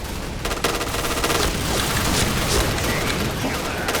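Shotgun fire in a zombie video game, a dense, continuous barrage of loud booming shots with clattering mechanical noise and no pauses, heard close and alone.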